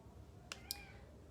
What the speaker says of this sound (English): Oh, hi kitty.